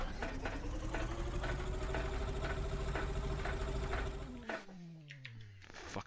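A Cessna 182 piston engine in the A2A flight simulator struggles to start, cranking loudly with a steady rhythmic chug for several seconds before winding down and falling quiet.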